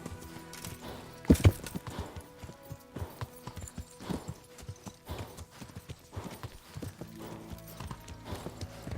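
Horse hooves clip-clop at a steady walking rhythm in the medieval game Kingdom Come: Deliverance, with a sharper, louder thud early on and the clops continuing close and clear with no talk.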